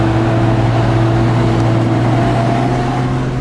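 A car engine labours loudly on a steep road climb in Yemen, giving a close, steady drone with a strong low hum that holds without a break, with no talking.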